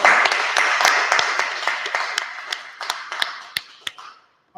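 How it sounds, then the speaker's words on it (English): Audience applause at a live class in a building, dense clapping that starts strong and gradually thins out, with scattered individual claps lingering before it fades to silence. "clap it up, clap it up"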